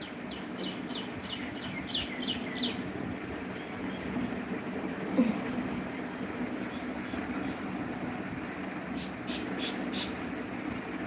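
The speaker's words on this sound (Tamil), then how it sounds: "பறவைகள் சத்தம் ஆமாம் பறவைகள்லாம் இருக்குல்ல மரத்து பறவைகள் தான்" Birds in trees outdoors chirp in quick bursts of high tweets near the start and again toward the end, fairly faint over a steady rustling background, with a fowl-like cluck midway.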